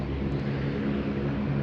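A blue-tailed Blink Airways plane at Sydney Airport, during the morning rush of heavy takeoffs, makes a loud, steady, broadband engine roar with a low rumbling drone throughout.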